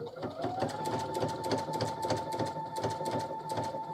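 Sewing machine running steadily while stitching decorative patterns into fabric with a 7mm needle plate, a fast even mechanical whir with rhythmic needle clatter throughout, close and loud.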